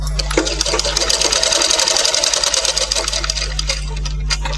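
A sewing machine stitches a blouse, a loud, close, continuous rapid whir with steady needle ticking that runs nearly unbroken for several seconds.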